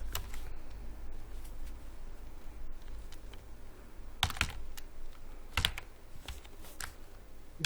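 Typing on a computer keyboard while entering an Eid greeting message, a steady stream of soft clicks with a few louder key strikes and no talking.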